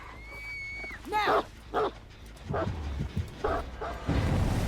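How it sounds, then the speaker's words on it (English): A killer's dog in the Houndmaster video game barks and yips in short bursts with a whimper, close and fairly loud, over game sounds and rumbling effects. "It's a little distracting to have this dog run around me like this"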